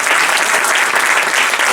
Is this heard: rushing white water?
no